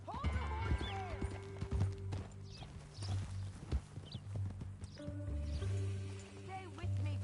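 Horse hooves clip-clop steadily on the ground in the video game Red Dead Redemption 2, a near rhythmic trotting under a low game soundscape with brief bursts of voices.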